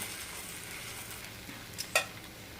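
A coriander paratha roasts on an iron pan with a faint, low sizzle, broken near the end by a couple of brief, sharp clicks.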